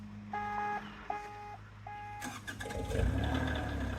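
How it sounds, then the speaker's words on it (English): A Doosan DX35z mini excavator sounds a few short electronic warning beeps, then its engine cranks and catches into a loud, rumbling idle heard from close by. "I'm gonna fire it up"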